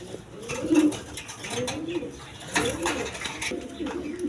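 Pigeons of the masaldam breed, sold as a pair at a pigeon market, coo in repeated low throaty rolls, several overlapping calls close by with faint background noise.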